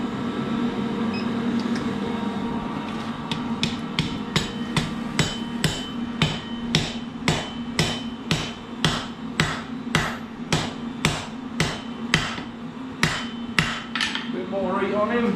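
Hammer blows land on hot steel being forge welded: a steady run of ringing metallic strikes, loud and close, evenly spaced about twice a second over a constant mechanical hum from an induction heater.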